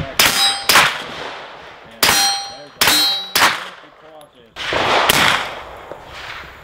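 Suppressed rifle shots with subsonic ammunition go off one at a time, sharp ringing cracks with metallic clang and short tails, spaced irregularly and loud at close range, with muffled outdoor talk between them.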